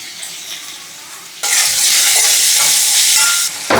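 Onions frying in a pan for okra curry: quiet at first, then a loud burst of sizzling and stirring erupts and holds for about two seconds before dropping briefly and returning.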